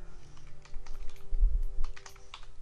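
Someone types a word into fleet maintenance software on a computer keyboard, producing a quiet, irregular run of close key clicks over a couple of seconds, with no talking.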